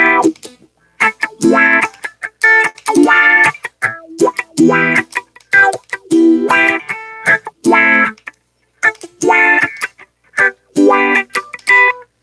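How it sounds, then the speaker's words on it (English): Electric guitar plays choppy, bright phrases with a sweeping wah tone and a swirling phaser effect, notes separated by short gaps, loud and close. "that's my wah with phaser"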